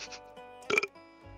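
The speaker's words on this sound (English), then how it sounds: "Burp." A loud, gravelly burp erupts in the middle of a short stretch of Hunt: Showdown gameplay, with quiet game ambience before and after.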